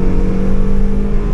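A Mazda MX-5 at a Sachsenring trackday, a steady loud engine drone with a strong low hum, close and continuous, no talk.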